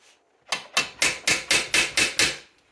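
A hammer strikes eight evenly spaced, sharp blows, driving nails through a saddle's strainer plate in a saddle-making workshop; the blows are close and loud, with no talking.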